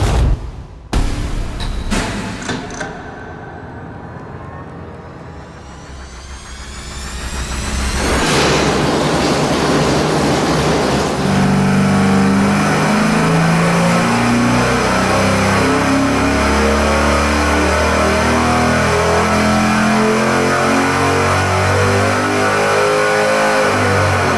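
A stock V8 engine on a dyno during a horsepower test, first a series of sharp bangs and clanks, then the engine builds up into a loud, sustained wide-open roar that holds steadily to the end.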